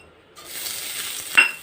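Cumin seeds hit hot oil with a sudden sizzle that keeps up a steady crackling hiss, and a sharp clink of a utensil against the pan follows near the end.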